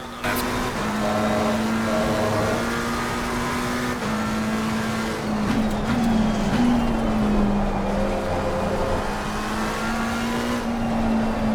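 A racing car engine drones in a racing video game at Spa-Francorchamps in mixed conditions as a BMW overtakes, a steady mid-pitched hum with small rises and dips in revs, continuous and moderately loud.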